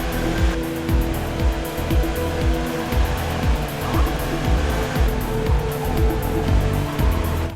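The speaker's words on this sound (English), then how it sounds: "Tyres are starting to wear. I can hear them starting to squeal." Tyres squeal repeatedly over a steady engine drone in the Trackday Manager racing game, the worn tyres giving rhythmic, evenly spaced screeches that continue throughout with no talking.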